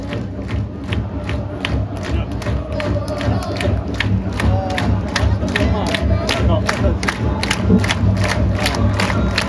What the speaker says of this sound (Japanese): いつの間にか手拍子になった